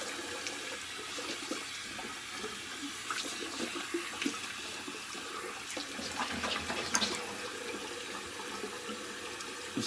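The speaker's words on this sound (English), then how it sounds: "I'm going to go ahead and give a little rinse." Tap water running into a bathroom sink while a face is rinsed after shaving, a continuous splashing stream with brief louder splashes from hands, close and steady throughout.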